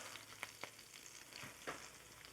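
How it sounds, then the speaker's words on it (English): Spinach hitting melted butter in a preheated pan gives a faint, steady sizzle broken by a few soft clicks and taps from the food landing. "I'm going to add about a tablespoon of butter, and we're just going to start throwing the spinach right into my pan"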